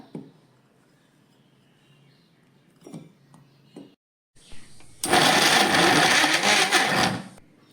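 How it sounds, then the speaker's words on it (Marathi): A few quiet clinks and short motor bursts, then a loud kitchen mixer grinder whirs steadily, grinding dates, for about two and a half seconds before cutting off. "खर्जूर हांवें मिक्सरात वाटून घेतला"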